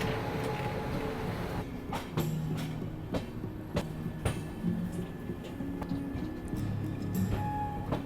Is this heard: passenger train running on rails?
yes